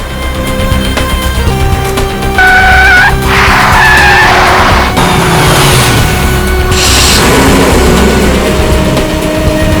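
A car swings around with tires skidding and squealing, loud sustained screeches and engine roar over a steady background tone, with a booming hit partway through.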